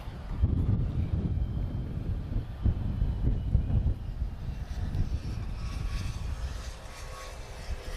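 Airliner rolling down the runway on a full-length departure at Lisbon Airport, a loud, steady low engine roar with some wind buffeting, easing slightly toward the end.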